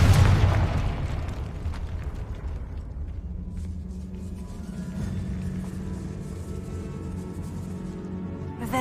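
A Confringo fire spell bursts in a decaying catacomb in Hogwarts Legacy, a loud booming blast at the start that decays into a long low rumbling tail with faint crackles.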